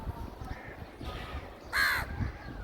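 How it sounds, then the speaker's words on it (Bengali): An ash-grey crow caws loudly once, a harsh nasal call rising over steady low outdoor noise, with fainter rumbling and activity around it. "আর কাক ডাকার শব্দ এটাও নর্মাল"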